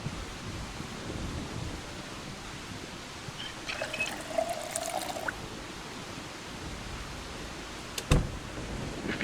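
Water trickles from a sink in the Project Zomboid video game, a soft steady dribble over a hushed background, with a brief sharper splash near the end and no talking.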